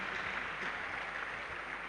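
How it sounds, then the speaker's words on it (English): A lecture audience at a university computing school's annual lecture applauds in a steady, even wash of clapping, moderately distant and fairly faint, with no voices over it. "Another hand of applause for our lecturer."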